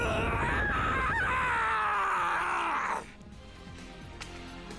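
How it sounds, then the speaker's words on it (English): Screaming from a character in the fighting video game My Hero One's Justice 2: a loud, sustained, strained scream that slowly drops in pitch and cuts off abruptly, followed by quieter game ambience. "The wall started moving with that scream."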